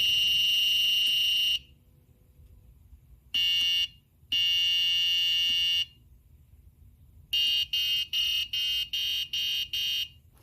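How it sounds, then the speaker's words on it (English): An Arduino speaker wired to pin 11 and triggered by a button on pin 10 beeps a loud, steady electronic tone in separate bursts: two long tones, a short one, then a quick run of six rapid beeps, with quiet gaps between. "when I push the button that's connected to pin 10, the speaker on pin 11 plays"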